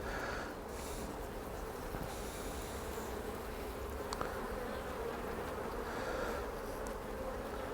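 Honey bees buzz around an opened hive super during a frame inspection for ripe honey, a soft, continuous droning hum with a few brief louder passes nearby and no talking.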